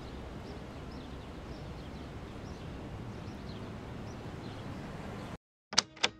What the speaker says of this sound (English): I use a field recording of a city street.